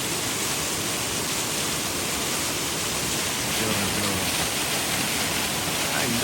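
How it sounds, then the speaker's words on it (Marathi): A waterfall of clean flowing water fed by a stream pours steadily, a dense continuous rushing hiss that stays loud and even throughout. "पुढे असा वॉटरफॉल येतो."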